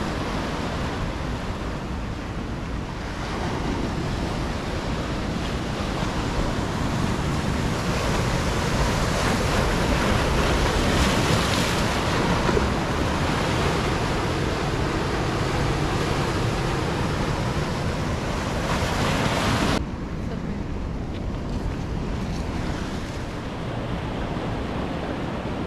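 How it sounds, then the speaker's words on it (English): Ocean waves break steadily on an Oahu beach in Hawaii, a continuous close roar of surf with wind rushing across the microphone and no voices. "look at these waves"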